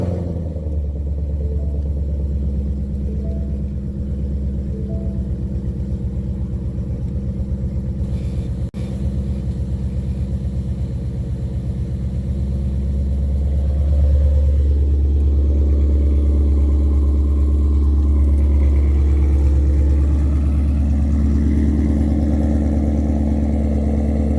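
A car engine fitted with a Cobra Jet intake runs at a steady, deep idle throughout, with the rumble swelling slightly partway through. The sound is close and continuous, and no one speaks.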